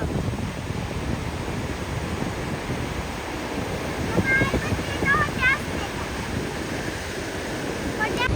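Rough sea waves crash at Varkala beach in Kerala during rain, making a continuous loud roar mixed with heavy wind buffeting on the microphone, with a faint voice briefly beneath it.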